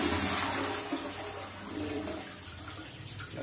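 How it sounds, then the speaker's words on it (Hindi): A western-style toilet cistern being flushed during a repair of a broken flush tank, producing a continuous rush of draining water, fairly quiet and close, with no talking. "अब हम इसको फ्लश करेंगे।"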